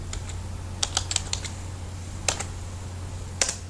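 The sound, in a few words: typing on a computer keyboard in MS Word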